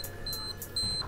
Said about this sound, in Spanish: una alarma que te avisa cuando estás rompiendo la distancia social